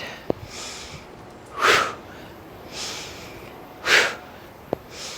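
Deep exhales during slow bodyweight squats, two long breathy gusts a couple of seconds apart with faint sniffs in between, close and quiet with no talking.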